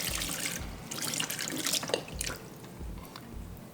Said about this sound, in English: I'll rinse the blade.